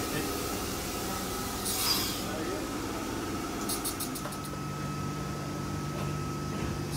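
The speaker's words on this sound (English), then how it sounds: "Beautiful chopper sound. Gotta love the chopper trucks and motors." A V-set electric train hums with a steady, tonal chopper-controlled motor whine that shifts pitch as it moves, and faint voices sound in the background.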